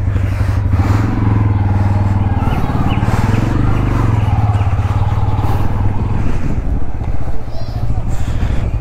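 A motorcycle used as a bike taxi runs at a steady idle-to-low rumble close by, while people talk over the engine throughout.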